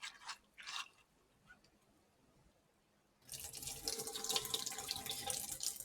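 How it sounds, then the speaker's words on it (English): Sorrel rinses under a running tap, starting with a few faint splashes, then a steady, fairly loud gush of water that continues to the end. "So let's go over to the pipe to rinse it off."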